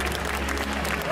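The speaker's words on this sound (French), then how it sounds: "Vous pouvez vous applaudir" Applause from a crowd at a cosplay contest during an indoor festival, a short, even wash of clapping over a low steady hum, with faint talk mixed in.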